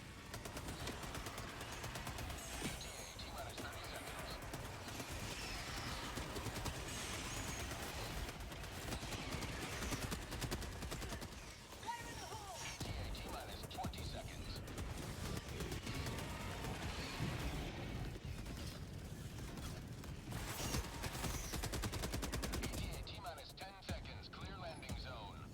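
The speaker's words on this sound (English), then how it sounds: "Calling down a sentry." A sentry turret fires in Helldivers 2 during a hectic battle, its steady stream of gunfire running through the whole stretch and blending with explosions and other weapon noise, with voices and radio chatter over it.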